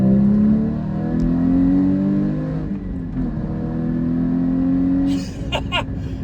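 A Porsche Cayman GT4 (981) pulls away hard on a rough public road, its engine note rising steadily through the revs, then a shift and a short burst of noise near the end, loud and close.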